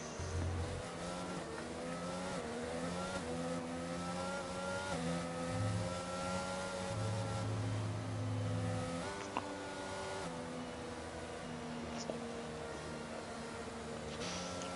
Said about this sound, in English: Sev's really revving his engine, trying to burn off some fuel in the middle of this safety car.